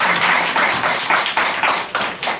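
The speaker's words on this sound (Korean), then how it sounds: "힘찬 박수 한번 보내주십시오" Dense applause from an audience at the closing of a panel discussion event, many hands clapping steadily at close range with rhythmic swells throughout, no voices.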